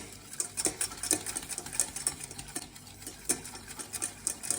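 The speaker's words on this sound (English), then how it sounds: "You want to whisk it quite rapidly, and then you gradually add your milk little by little, all the while stirring your saucepan." A whisk beats rapidly in a saucepan of béchamel roux as milk goes in, giving a faint, rhythmic series of light metallic clicks over a soft background hiss.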